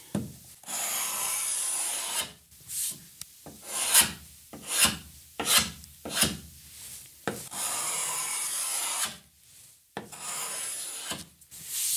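A chisel scraping old finish off a solid mahogany drop-leaf table, heard close up as repeated rasping strokes in an uneven rhythm, with short pauses between passes.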